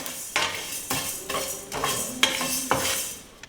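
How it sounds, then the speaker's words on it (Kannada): Coriander seeds dry-roasting in a pan over a low flame for a curry-leaf chutney powder, heard as a run of close metallic scrapes and clinks of a utensil stirring against the pan, with no talking. "ಇದು ಕೂಡ ಅಷ್ಟೇ ಲೋ ಫ್ಲೇಮ್ನಲ್ಲೇ ಹುರ್ಕೋಬೇಕು."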